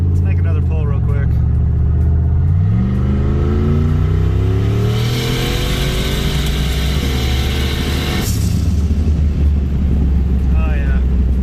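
A Nissan 240 accelerating at full throttle, the engine note climbing steadily through the revs with a shift partway and a strong, close, loud roar, with wind and road noise and a voice heard over it.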